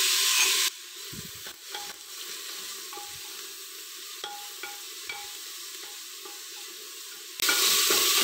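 Onion, ginger, garlic and green chili frying for jackfruit curry, a steady sizzle with intermittent scraping and tapping of a spoon stirring the pan, louder hiss at the start and end, no talking.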